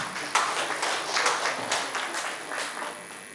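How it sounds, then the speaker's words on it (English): An event audience gives a round of applause, a soft steady patter of many hands clapping at moderate distance, with no voices over it. "Please, can you give a round of applause?"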